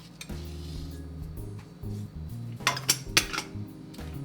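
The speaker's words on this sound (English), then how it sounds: "These San Marzanos cook down really well, but we still need to break them up a little bit." San Marzano tomatoes being broken up in a cooking pot of Sugo sauce with Italian sausage and onions, with close metal utensil scrapes and clinks against the pot, rising to a few sharper knocks near the end.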